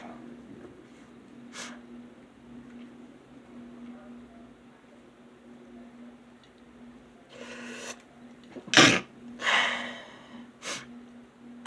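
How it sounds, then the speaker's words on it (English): Allergy sneezes come as a couple of sharp, loud bursts close to the microphone, preceded by a sharp inhale and followed by breathy snorts over a steady low hum. "Me sneezing."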